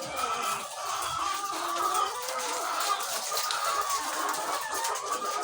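Laying hens of a layer flock, getting older and producing fewer eggs, cluck steadily and close by in a continuous busy chorus with no talking.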